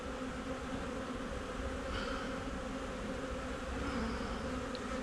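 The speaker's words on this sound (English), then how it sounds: "And try not to smash no bees." Honeybees swarm around an open hive during an inspection, producing a dense, steady, close-up buzz that continues without a break.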